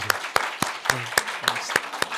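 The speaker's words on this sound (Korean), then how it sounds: "잘 부탁합니다 하는 의미에서 박수하겠습니다" A church congregation at a Sunday service claps to welcome new ministers, with a steady run of about eight sharp handclaps, close and moderately loud, with no talking.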